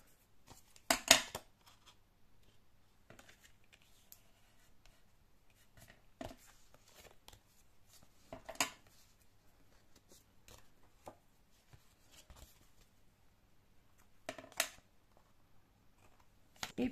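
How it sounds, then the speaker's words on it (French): Scissors snip off excess floral washi tape on a handmade Christmas card, a few short crisp cuts spaced several seconds apart in a quiet room. "Et je vais couper l'excédent."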